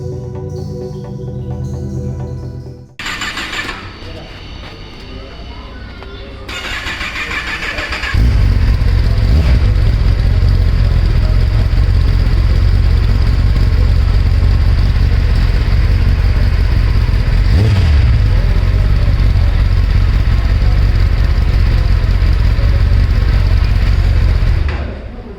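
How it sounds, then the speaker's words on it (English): A 2021 Kawasaki Ninja ZX-10R is cranked and fires up, settling into a loud, deep idle from its exhaust with occasional blips of revving, close to the bike. "and now it's time to hear the exhaust note."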